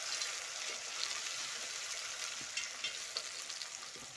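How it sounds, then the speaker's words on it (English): A faint, steady sizzle from a pot of mutton and rice being stirred, with soft scraping knocks scattered through it and no voices. "We uncover our mixture to stir a bit"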